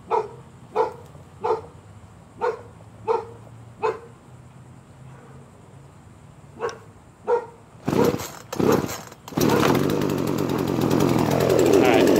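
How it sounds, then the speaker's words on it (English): A dog barks in a regular series of sharp yaps, then a chainsaw engine sputters with a few pull-starts before catching and running loudly. "I gotta start the chainsaw and try to keep it running"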